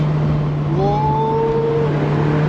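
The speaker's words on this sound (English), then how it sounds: "the 1ZZ engine in this car just loves revs" A Toyota MR2 with the 1ZZ engine revs hard while driving, its rising engine note sweeping upward over a steady hum of road and cabin noise, loud and close.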